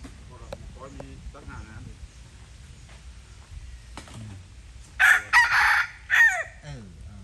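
A rooster at a rural Thai temple in Khok Kruat, Korat, lets out loud, close crows near the end, after a stretch of people talking.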